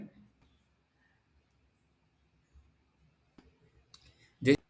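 Sparse computer mouse clicks while an online PAN card application form is filled in, a few faint isolated clicks in near silence, ending with one sharper, louder click.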